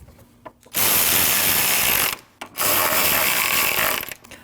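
Ratchet wrench tightening two 10mm bolts on a 2003-2008 Subaru Forester 2.5L, heard as two long, loud, close bursts of rapid clicking separated by a short pause, with no talking.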